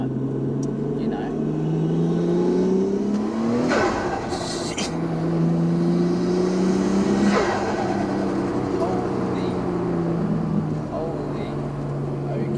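A Nissan Skyline R34 running on a dyno, its engine holding a steady loud drone that climbs in pitch, drops back and climbs again through repeated gear pulls, close and continuous, with voices faintly underneath.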